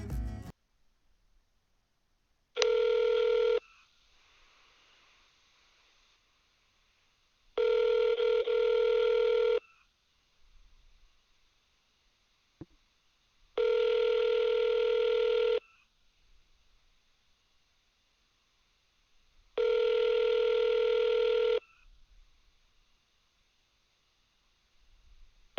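A telephone ringback tone sounds in four long, evenly spaced bursts, clear and steady with near silence between them, before a voicemail greeting.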